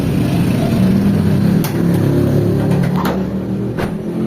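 A Mitsubishi Lancer GLXi 'itlog' with a gearbox that won't go into gear runs its engine at a rev. The hum is loud, close and continuous, with faint clicks on top and no talk.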